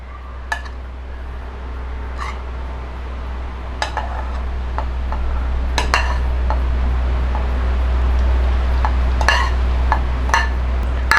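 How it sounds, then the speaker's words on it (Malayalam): Pieces of half a coconut drop into a small mixer jar, making scattered sharp clinks and knocks against the jar at irregular intervals over a steady low hum, with no talk. "ഈ അരമുറി തേങ്ങ ഒരു മിക്സിയുടെ ചെറിയ ജാറിലോട്ട് നമുക്ക് ഇട്ട് കൊടുക്കാവേ."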